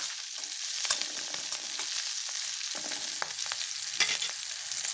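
Onions frying in soybean oil in a pan, a soft, continuous sizzle with scattered crackles and occasional stirring, fairly faint and without talk.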